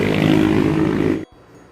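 A 2015 Kawasaki Ninja H2 with a supercharged engine runs with a loud, rough, raspy roar close by, then cuts off abruptly, leaving near silence.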